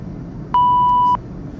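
A single censor bleep, a steady pure electronic tone lasting just over half a second, sounds alone against a faint background hum.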